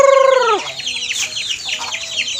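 Chickens cluck in a busy, overlapping chorus, preceded by a short rising-falling call at the start; steady and fairly close.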